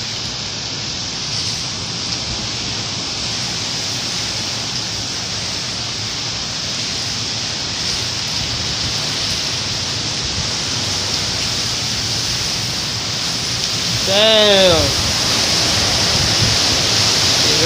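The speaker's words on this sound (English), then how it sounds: "It's raining hard, the trees going." Heavy rain and gusting wind heard from a porch, a dense, loud, continuous hiss of downpour that swells slightly near the end, with a brief spoken word over it.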